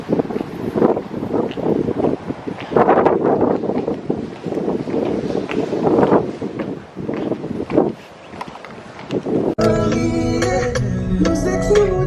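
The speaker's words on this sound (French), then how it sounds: "Ça souffle pas mal, hein." Strong, gusty wind buffets the microphone outdoors, roaring in uneven bursts for several seconds before music abruptly takes over near the end.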